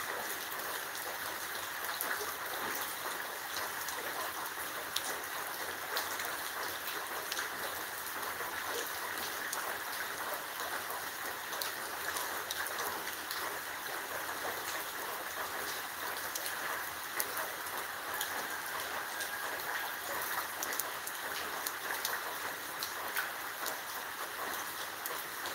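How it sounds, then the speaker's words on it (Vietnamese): A heavy, historic rainstorm pours down steadily with a dense, hissing roar of rain on surfaces and splashing runoff, unbroken and loud the whole time, after water has flooded a yard. "chứng kiến trận mưa lịch sử của chúng tôi"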